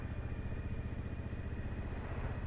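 Motorcycle engine and exhaust running loud and steady close by, with the baffle left in to meet Euro 5 rules, a continuous low rumble with rhythmic pulsing and no pauses.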